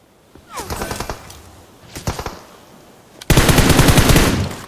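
Rapid automatic gunfire in PUBG Mobile rattles out in short bursts, then one long, loud sustained spray, close and harsh, with no voices.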